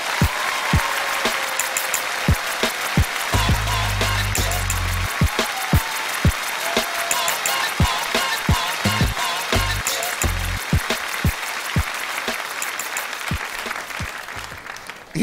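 Audience applause at a poetry performance, a continuous close wash of clapping with sharp individual claps standing out, and a brief musical tone underneath partway through.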